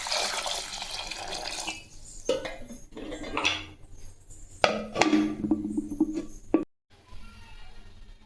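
Water pours into a pot of cut potatoes for boiling, with splashing, clattering metal pan and utensil knocks in between, loud and close in a home kitchen.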